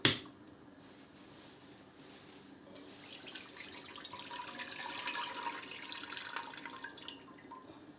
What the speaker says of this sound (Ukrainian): Воду зливаємо